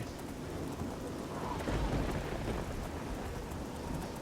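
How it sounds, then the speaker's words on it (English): Steady rain pours in the fantasy game The Elder Scrolls IV: Oblivion, with a low rumble of thunder swelling near the middle, loud and continuous throughout with no voices. "I feel like the rain in Oblivion just feels a lot more, you know, rainy than it does in Skyrim"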